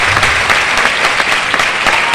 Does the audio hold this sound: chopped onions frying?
no